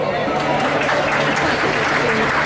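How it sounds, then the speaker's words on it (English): A small audience gives a brief burst of steady clapping and cheering at an informal sing-along gathering, with voices mixed into the applause. "They deserve a round of applause?"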